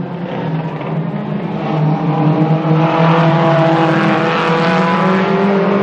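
Race cars in a track final, their engines roaring loudly and continuously as they accelerate, the pitch climbing steadily and the sound swelling toward the end.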